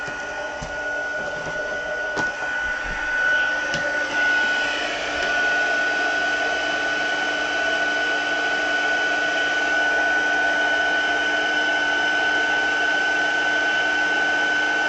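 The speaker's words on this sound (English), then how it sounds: "Ah, heat embossing, my very favorite thing." Heat tool blowing hot air to set embossing powder on a card tag during papercraft work, a steady whooshing fan hiss held close and loud for the whole stretch with a faint high whine.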